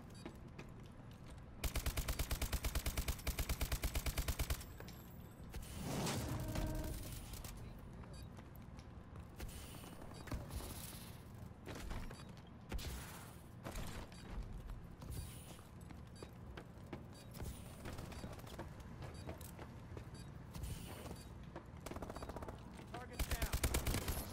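Pytech light machine gun fired in a first-person shooter match, with sustained rapid bursts in a few long stretches alongside footsteps and other game effects, while a player talks over the action.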